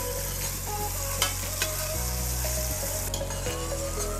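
Tomato paste sautés in a pan for a mechado, a steady bright sizzle with a few sharp spoon or spatula clinks against the pan. There is no talking.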